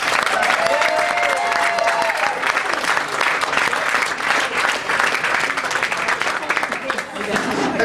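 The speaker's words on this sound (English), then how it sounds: "can we have a big round of applause, please, for the father of the bride?" Wedding guests give a loud, sustained round of applause for the father of the bride, dense clapping with some cheering filling the room steadily throughout.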